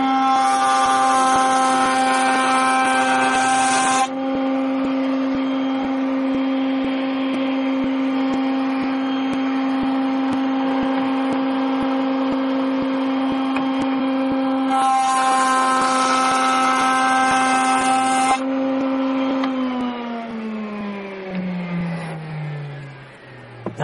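A handheld router cuts into a clamped wooden workpiece, its motor whining at a steady high pitch for about twenty seconds, with rasping bursts as the bit bites in, then the tone drops as the router winds down.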